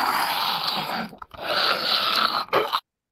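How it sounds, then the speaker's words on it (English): Synthesized zombie eating brains: wet, squelching chewing and gnawing noises, close and dense, broken by two brief gaps before cutting off abruptly. "zombie eating brains."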